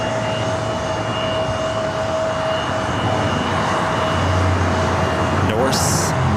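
A jet airliner taxis across runway 24 left at Los Angeles International Airport, bound for Tucson, Arizona. It gives a steady, moderately loud engine drone with a faint whine, and a voice can be heard over it.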